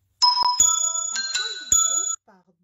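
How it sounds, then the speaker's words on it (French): A doorbell chimes at home during a live card-making session, several bright ringing tones struck in quick succession with sustained harmonic overtones, loud and close, then cutting off abruptly. "j'avais oublié de couper la sonnette"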